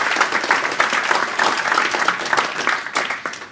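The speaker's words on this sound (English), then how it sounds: "So a big round of applause for people who make the venue stuff work." A conference audience claps for the venue staff, a dense, steady round of applause from a crowd in a hall that holds level throughout.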